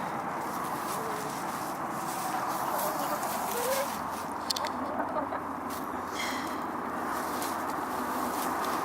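Backyard chickens, including a silkie cockerel, and ducks cluck and grumble softly and fairly close over a constant hum of motorway traffic, with occasional brief sharper calls.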